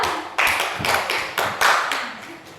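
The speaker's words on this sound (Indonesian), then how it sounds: "Berikan aplaus dulu untuk kelompok 2." Classroom applause for a group of students after their presentation: several bursts of hand clapping from a class, close and fairly loud, fading slightly between swells, with no talking over it.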